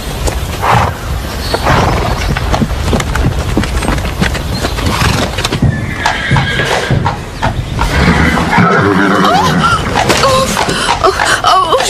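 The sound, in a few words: horse hooves clip-clopping and neighing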